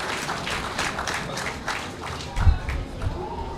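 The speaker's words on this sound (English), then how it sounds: "we have to give the largest round of applause for the farmers and the fishers in our" Crowd applause at the launch of a national food and farming campaign, a full, sustained round of clapping from a large audience with a few louder swells and low thumps midway.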